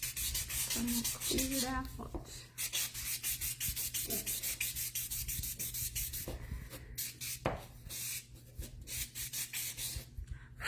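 Hand sanding on a homemade Christmas countdown ornament, a steady scratchy rubbing that runs close and continuous for the whole stretch, with a few brief spoken words and some background noise underneath.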